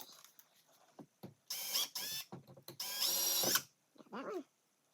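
An electric drill bores out rivets on a switch panel for a Honda Pioneer 1000-5 side-by-side, running in several short whining bursts of rising and falling pitch with brief gaps between them, close up.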